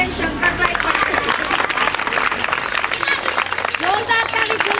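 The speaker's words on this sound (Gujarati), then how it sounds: "જોરદાર તાળી" Crowd at a community adolescent girls' festival in Gujarat applauding, with dense clapping over loud overlapping voices and general hall noise.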